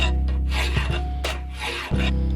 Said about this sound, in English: I use a file to clean up the transition area between the tang and the blade.